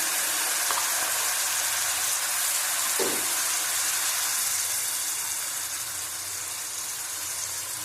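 A spoonful of garlic drops into hot oil for a fish curry and sizzles in a steady, loud, hissing fry that continues without pause and fades slightly toward the end.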